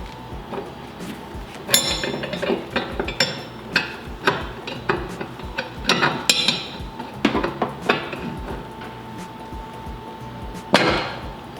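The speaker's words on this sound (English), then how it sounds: "I'm going to be using this 24mm wrench to tighten that down" A 24mm wrench works on a ball joint removal tool during a Honda EK Civic brake upgrade, giving repeated metallic clinks and ratcheting clacks at close range in an irregular rhythm, with a sharper clank near the end.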